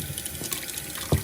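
Hot water runs from a tap onto a makeup brush mat, a soft continuous splashing with a couple of louder splashes near the end.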